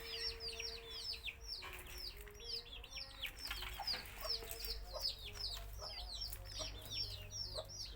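Free-range village chickens cluck and chirp continuously at a distance in front of a house, with chicks peeping over a steady low background rumble outdoors.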